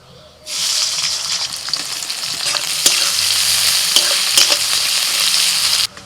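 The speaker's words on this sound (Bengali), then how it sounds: "আবারও কড়াইতে সরষের তেল দিয়ে দিয়ে দিচ্ছি পেঁয়াজ কুচি" Chopped onions hit hot mustard oil in a wok, setting off a loud, steady sizzle that starts abruptly and runs continuously with a few sharp crackles and stirring scrapes before cutting off.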